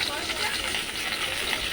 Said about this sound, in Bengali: এবার মাছ কটা ভালো করে ভেজে নেব।